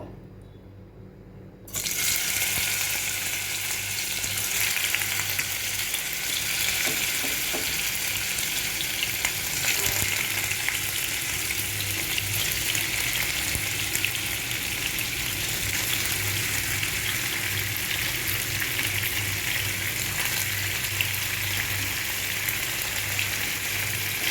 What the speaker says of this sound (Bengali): এবার আমি এই তেলটার মধ্যে পনিরগুলো সব ভেজে নেব